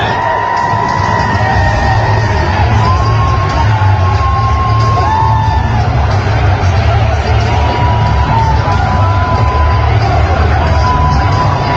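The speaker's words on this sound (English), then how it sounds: "the crowd gets louder than any fighter on the card" A packed UFC arena crowd cheers loudly, keeping up a dense, continuous roar with whoops, yells and rising chanted calls for nearly twelve seconds.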